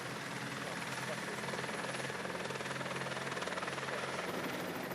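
A helicopter filming a cycling race climbing Mont Ventoux whirs steadily with a fast rhythmic rotor chop, faint and continuous throughout, with a voice talking over it.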